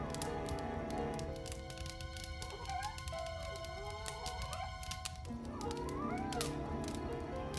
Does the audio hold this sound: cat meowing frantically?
yes